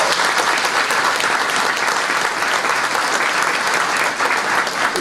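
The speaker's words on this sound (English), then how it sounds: "Let's give them a round of applause." An audience at a Rotary Club of Houston Veterans Day program gives a round of applause, steady dense clapping from a large indoor crowd, sustained for the whole stretch.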